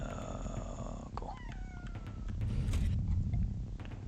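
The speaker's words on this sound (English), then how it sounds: "Oh, you heard a cat." A cat meows in a drawn-out, wavering cry amid clattering background noise and a low rumbling hum, with no talking.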